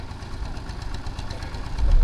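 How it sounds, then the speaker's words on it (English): A tractor engine idles and chugs as it crosses the seabed toward Chale Island off the Kenyan coast, a steady low, rumbling drone at moderate distance that swells louder at the very end. "looks like a tractor going across at the moment"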